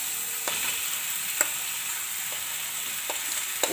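Steady oily sizzle from a frying pan as mashed potato filling goes in for bread pakoda, with a few soft spoon taps against the pan; no voices.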